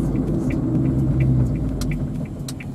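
Suzuki Alto Works HA36S with automated gearbox driving and making a U-turn, heard from inside as a steady low engine rumble and road drone with faint ticking clicks, no talking.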